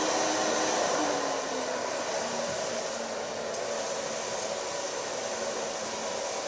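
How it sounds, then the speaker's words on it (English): A hair dryer blows steadily and close during a punk haircut in a salon, a continuous airy whoosh with a slight hum and small shifts as it moves around the hair. "Start blow drying"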